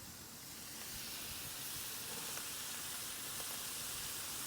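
Rice goes into a hot wok on a Big Green Egg for chicken fried rice and gives a quiet, even, broad hiss and sizzle that holds steady throughout, with no voices.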